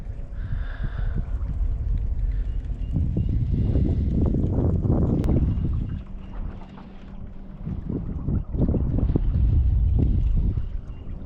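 Steady wind noise buffets the microphone on open water during a bass fishing trip from a boat, a loud continuous low rumble that swells and dips with the gusts.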